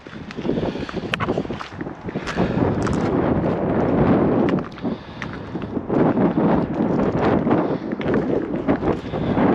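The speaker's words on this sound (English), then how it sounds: "it's getting windier and colder up here" Strong wind buffets the microphone at a hilltop viewpoint over the Golden Gate Bridge, a loud, continuous roaring rumble with gusty swells.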